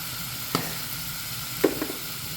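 Turmeric and chili powder sizzling in a pan with sardine, a low steady frying hiss broken by two distinct spoon taps or stirs against the pan, close and quiet, no voices.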